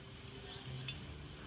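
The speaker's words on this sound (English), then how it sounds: "Wait until the pan gets hot so that when you put the meat in, it sizzles." A steady, quiet sizzle of meatballs frying in a hot pan, a soft continuous hiss with no talking.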